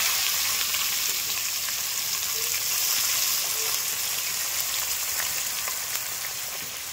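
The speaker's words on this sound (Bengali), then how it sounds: "পেঁয়াজটা একটু লাল লাল করে ভেজে নেব" Chopped onions frying in hot oil after cumin and spices, a steady, close sizzle and crackle, occasional light stirring noises, continuing for several seconds.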